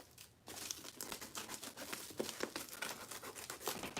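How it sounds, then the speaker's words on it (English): Scissors snipping the purple part off craft material for a homemade cozy, a steady run of crinkly cuts and rustling close by, fairly quiet with no talking. "I'm just going to cut this purple part off"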